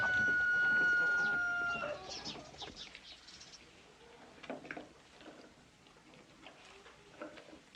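Backyard laying hens cluck and call in short, scattered bursts, with a rooster-like crow near the start and a faint ticking in the background; nearby, moderately loud, no talking.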